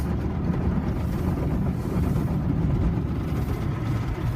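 High-power air dryer blowers in a Mark VII SoftLine car wash tunnel at a Shell station, a loud, constant low roaring rush of air that stays steady throughout with no voices.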